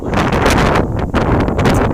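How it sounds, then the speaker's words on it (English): Loud, gusty wind buffeting the microphone in broad, roaring surges that rise and dip without pause. "it's very windy here today."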